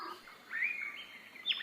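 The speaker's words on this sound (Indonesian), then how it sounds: "ini banyak burung." Several birds chirp and tweet at close range, brief high whistling calls that rise and fall in quick succession. The calls are faint but clear over a quiet background.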